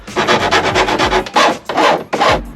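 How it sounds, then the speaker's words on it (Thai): A steel file rasps over the edge of a freshly drilled hole in a van's sheet-metal body, in fast, loud back-and-forth strokes, first in a quick run and then in three slower, longer pulls, with no voices. "จะใช้ตะไบเหล็กนะครับ ให้มันไม่แหลมเพราะตอนนี้มันแหลมมากนะครับ"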